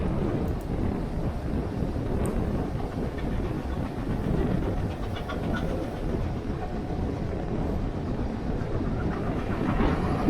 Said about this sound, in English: the sound of the train as it makes its way along the tracks